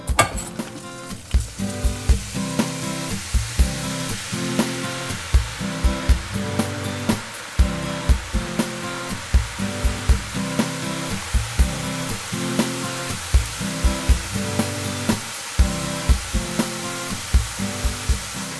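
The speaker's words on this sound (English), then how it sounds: "As they are getting cooked, they will slowly start appearing first, but the oil will be boiling." Besan sev dough frying in boiling hot oil, a dense, steady crackling sizzle that runs continuously at close range with rhythmic bubbling pulses and no talk.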